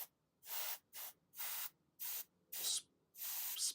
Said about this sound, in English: spurts of spray,